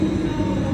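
A train at an old railway station gives a brief, steady low rumble that is loud and continuous, with no voices.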